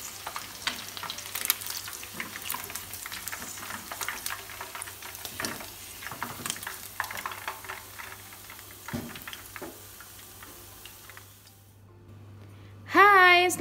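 Spiced chicken pieces fry in hot oil with a steady, moderate crackle and sizzle that fades out near the end, followed by a brief louder sound.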